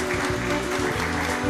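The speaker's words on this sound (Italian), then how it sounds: "Signore e signori, buonasera, un applauso di reciproco saluto." Audience applause at the 22nd Premio Teleacras Punto Fermo Giovanni Miccichè award ceremony, a steady, dense wash of clapping filling the hall throughout, with a faint tonal hum underneath.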